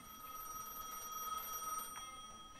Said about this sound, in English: it's the telephone ringing